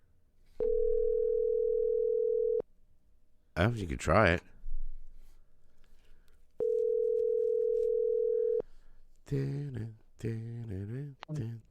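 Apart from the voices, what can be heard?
telephone dial tone while calling a phone number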